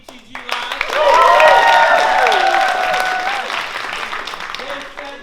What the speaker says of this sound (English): One more good round of applause for our band,